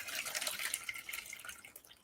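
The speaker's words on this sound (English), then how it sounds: "And add boiling water around them." Boiling water trickling and splashing as it is poured into small dishes, a faint, steady liquid patter heard up close without talking.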